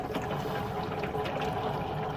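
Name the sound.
water draining through caravan washing machine tube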